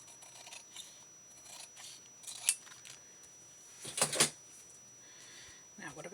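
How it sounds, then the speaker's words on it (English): Close scissors trimming die-cut paper for a card in short bursts, a sharp cut early on and a quick cluster of louder snips later, with light handling noise between. "I am, again, going to take my scissors."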